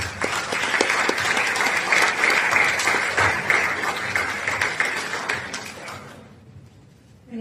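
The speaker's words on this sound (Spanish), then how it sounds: "Les pido un aplauso." Audience applause after a speaker introduces an economics scholar at a book presentation for "Pájaro milagroso", a dense steady clapping from a room full of people lasting about six seconds before cutting off abruptly into near silence.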